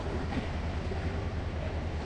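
A passenger train bound for Cox's Bazar rumbles along with a steady low roll heard from inside the carriage, with no talking.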